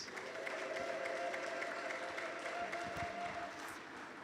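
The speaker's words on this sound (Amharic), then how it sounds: "እልልታ ጨብጨባ እስቲ ለኢየሱስ።" A church congregation clapping and ululating in praise of Jesus, a dense sustained wash of applause with a high trilling ululation running through it, steady and moderately distant throughout.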